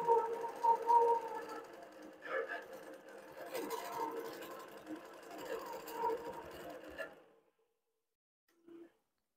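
Longarm quilting sewing machine stitching a custom quilt, a steady fast mechanical hum with rhythmic needle clatter that stops abruptly, followed by a brief faint beep.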